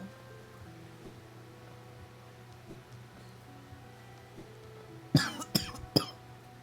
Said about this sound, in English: I am so sorry for the coughing.